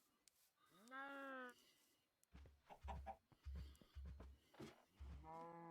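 A chicken in the video game Minecraft clucks in short bursts that fall into a rhythmic run of low thumps. A voice talks and makes drawn-out calls between and over the clucks.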